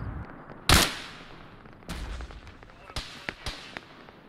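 Gunfire in a military shooter video game: one sharp, loud shot followed by several quieter distant cracks and pops, with brief voice activity around them.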